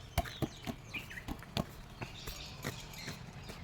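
Chickens at the Yelagiri bird park cluck in short, irregular bursts, fairly faint and spaced apart against quiet outdoor background noise.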